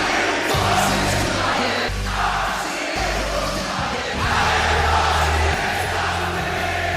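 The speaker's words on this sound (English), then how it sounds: "it wasn't until the French crowd started singing his theme" A huge French arena crowd chants Randy Orton's WWE entrance theme in unison, loud rhythmic swells of voices rising and falling in repeated phrases, reverberant and massed.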